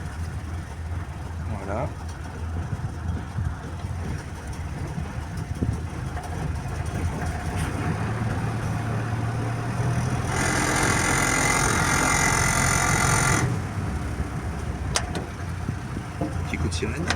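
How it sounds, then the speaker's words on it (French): A 1964 Jeep Willys Hotchkiss M201 with a 24-volt system starts up and settles into a steady idle, then briefly surges louder, with someone talking near the vehicle. "Alors, on va la démarrer."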